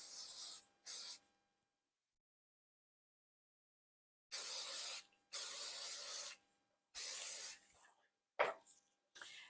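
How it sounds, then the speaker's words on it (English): Several bursts of aerosol hair spray, hissing in short and longer puffs separated by silences, close to the microphone, followed by a few light clicks and rustles. "I like to just do a once over with an aerosol spray"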